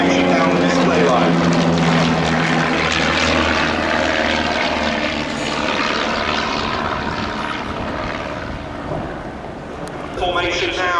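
Display aircraft flying in tight formation past the crowd line at Duxford Air Festival, a loud sustained engine roar with propeller drone that swells and slowly fades, briefly dipping before rising again near the end.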